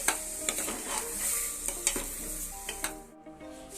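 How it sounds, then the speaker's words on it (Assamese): Food frying in ghee in a pan with repeated stirring, a steady close sizzle broken by sharp scraping and clinking strokes of a spoon against the pan, no voices. "মোৰ লগত ৰিফাইন তেল নাই গতিকে মই ঘিউ দিয়ে ভাজিছোঁ"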